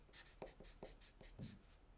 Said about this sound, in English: I'm gonna write down here something.